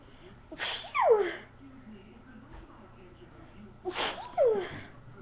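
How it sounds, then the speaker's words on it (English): Two sneezes, each a sharp inhaled gasp followed by a forceful burst, spaced about three seconds apart at close range with quiet room tone between, in a house during a bout of repeated sneezing. "It's just making me sneeze all day."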